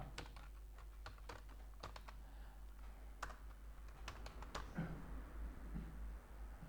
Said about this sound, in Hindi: हम यहां पर नाम टाइप कर देते हैं